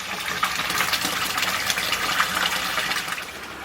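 Water pours steadily over a new stainless steel spillway blade into a garden pond, a continuous close splashing gush with no voices.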